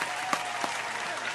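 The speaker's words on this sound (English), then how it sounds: "Round of applause to me for the prison stories" Brief audience applause, a dense even patter of clapping with a couple of sharper claps standing out, moderately loud and unbroken.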